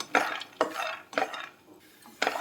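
Peanuts being dry-roasted in a pan on a stove, stirred in four distinct scraping sweeps with brief rattling of the nuts against the metal, close and clear with no talk.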